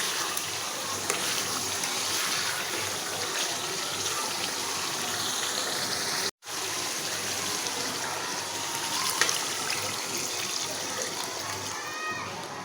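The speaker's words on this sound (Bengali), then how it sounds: "তো আমি আবার পানিটা দিয়ে দেবো সিদ্ধ হওয়ার লেগা।" Water poured into a pot of beef curry cooked with winter vegetables, a steady continuous gushing pour that runs for most of the stretch with one brief break, close and without talk.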